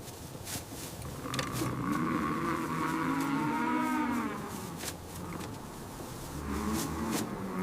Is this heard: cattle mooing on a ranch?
yes